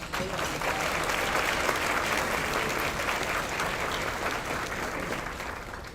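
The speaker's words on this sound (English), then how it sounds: "Can we give him a round of applause?" A round of applause for Steve Trager stepping to the podium at an optimal aging awards ceremony, a dense, even wash of many hands clapping, sustained at steady loudness throughout.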